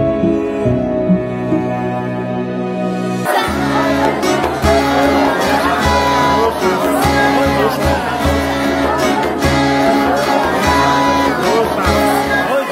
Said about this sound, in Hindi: भीड़ को कहिए शांत रहे, ज्यादा शोर मत मचाए।